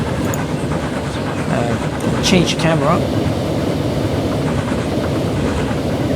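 A train runs on rails in the Transport Fever 2 simulation, a steady rolling rumble with faint clatter heard under talk from a person throughout.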